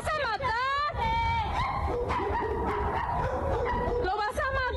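A small female dog yelps and whimpers in distress while being beaten by a man in Cuautitlán, Mexico, with high, sliding cries running throughout and people shouting over them.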